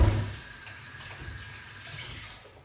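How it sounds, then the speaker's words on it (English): Tap water running steadily as items are rinsed under it in a kitchen, a soft continuous splashing stream heard close and alone, with a brief louder gush at the start. "you just want to rinse them off, just like that"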